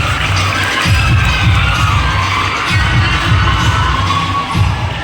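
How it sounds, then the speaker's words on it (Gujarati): Applause and cheering from an audience at a high school prize distribution ceremony, a steady, loud crowd roar with rhythmic clapping that fills the whole stretch without a break. "જોરદાર તાળીઓના ગડગડાટ સાથે આપણે એમને વધાવી લઈએ"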